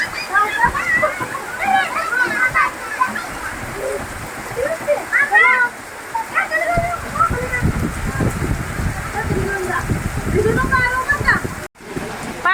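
Steady heavy rain hisses throughout in a mango orchard, with splashing water and voices talking over it; a brief dropout near the end.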